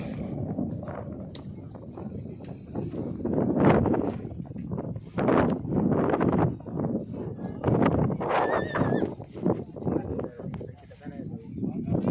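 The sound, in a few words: horses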